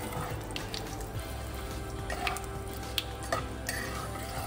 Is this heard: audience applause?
no